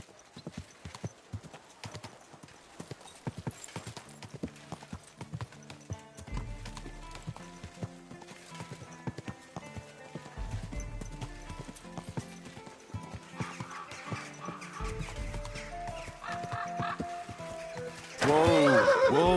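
Horse hooves clip-clop steadily with occasional neighs in the medieval game Kingdom Come Deliverance 2, layered over a continuous music score, with a louder burst near the end.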